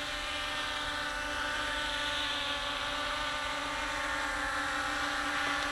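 A 200 size quadcopter drone holds a steady hover on high throttle, its propellers giving a loud, continuous, even buzz with a strong tonal whine and no break.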